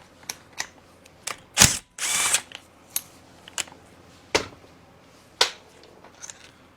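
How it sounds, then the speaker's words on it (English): A hand tool works the weight nut on a P7100 diesel injection pump, producing a series of short, close clicks and metallic taps with a couple of louder rasping bursts, irregularly spaced over a quiet background. "Got my tool here, take this weight nut off."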